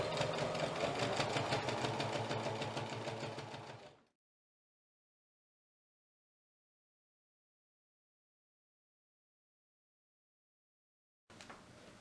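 A sewing machine stitches a double-sided fabric placemat in a steady, loud mechanical run for about four seconds, then stops into silence before the motor briefly starts again near the end.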